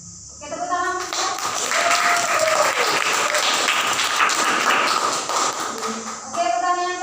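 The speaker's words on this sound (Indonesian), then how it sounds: "Oke, tepuk tangan." Classroom applause as students clap together for several seconds, a dense burst of claps rising quickly and then fading, with brief talk from the room before and after.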